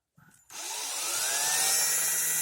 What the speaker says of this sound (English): Pardon my giant drill, but here she is, and it works.